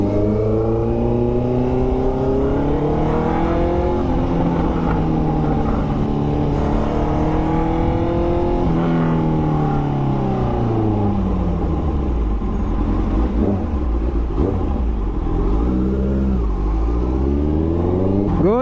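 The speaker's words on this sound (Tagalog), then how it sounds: "Volume ng mga sasakyan." Heavy traffic crawls southbound on the Skyway Stage 3 expressway near a toll gate. Engines drone and rev in a constant loud rumble, with vehicles speeding up and passing nearby, and no clear talking.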